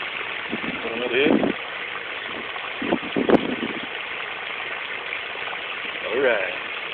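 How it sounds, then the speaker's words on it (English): Water flows steadily through a flooded taro (kalo) field, a continuous broadband rush with someone speaking briefly over it at a few points. "I thought this might be kind of soothing to watch the water and just to listen to it."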